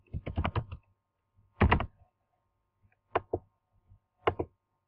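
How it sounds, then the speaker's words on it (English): Typing on a computer keyboard while entering a spreadsheet average formula: a quick cluster of clacking keystrokes, a pause, then a short burst and a few scattered taps, close and fairly quiet. "and just type in average"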